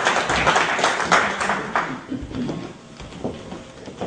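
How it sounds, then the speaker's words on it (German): An audience claps for a woman at a German lecture on exponential growth, steady moderately loud applause that gradually thins out toward the end. "Großen Beifall für die Dame."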